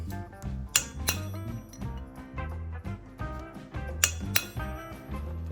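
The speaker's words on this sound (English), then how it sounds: "When I drive the chisel in there, it displaces the material, and on each side of my chisel mark, that material comes up." A chisel being driven into the metal of a Bridgeport vise to raise the surface, heard as a series of sharp ringing metallic clinks at irregular intervals, close and fairly loud.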